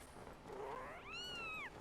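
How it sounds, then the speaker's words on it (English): A cat in The Legend of Zelda: Skyward Sword HD gives one clear, rising and falling meow over quiet game ambience. "that's a cat"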